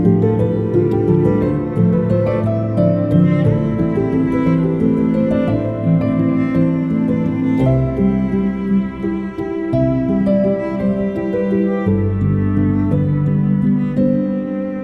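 A cello part plays over a bounced piano track, sustained bowed notes layered on sparse piano chords in a slow, calm piece, steady and full throughout with no talking.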